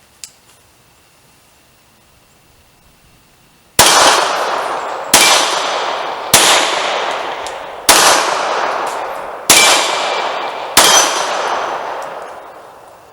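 Six sharp gunshots from a Beretta Model 84 .380 ACP pistol at an outdoor range, fired one at a time about a second apart after a few quiet seconds, each a loud crack with a ringing decay.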